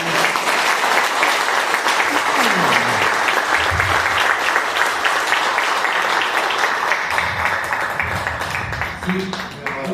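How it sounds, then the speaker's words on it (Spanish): An audience applauds a teacher at an event, dense, loud, sustained clapping close by, tapering slightly toward the end, with voices mixed in. "un aplauso al maestro, primero que nada"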